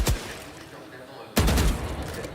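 Gunfire in the Valorant esports playoffs: two loud bursts of shots, one at the start and a heavier one after a short lull, set against a commentator's voice and arena noise.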